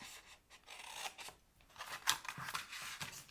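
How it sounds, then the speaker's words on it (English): Scissors snip and rasp straight across a paper box template in short, quiet, close cuts with brief pauses between strokes. "Now what we're going to do is remove this section right here. So we're just going to cut straight across."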